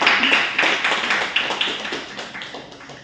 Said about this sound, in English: Let's have a huge round of applause for Toastmasters